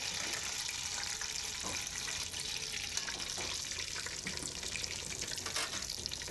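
Schnitzel cutlets frying in a hot pan give off a steady, dense crackling sizzle with small pops and spatters throughout, close and even, with no voices.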